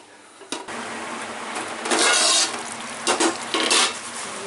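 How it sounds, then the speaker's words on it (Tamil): Village-style crab masala gravy bubbling and sizzling in a pot on the stove, a steady close simmer with louder bursts of spattering and occasional utensil clinks, no talking. "நல்லா கொதிச்சிடுச்சு."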